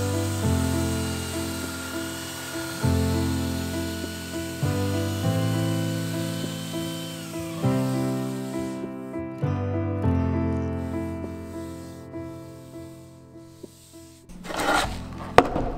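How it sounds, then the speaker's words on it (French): A Makita brush sander runs against wood with a continuous buzzing whir and rhythmic surges as it sweeps the surface, then winds down and stops near the end with a few clunks. "me voici avec une ponceuse à brosse de chez Makita"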